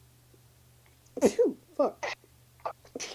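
A quick series of sneezes, several sharp bursts of breath at close range, with short pauses between them and a curse spoken among them.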